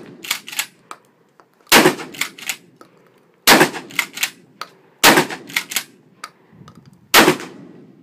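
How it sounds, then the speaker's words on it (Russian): Repeated sharp shotgun blasts with 32-gram loads in clusters, each crack ringing briefly with quiet gaps between bursts, fairly close. "следующие 5 выстрелов"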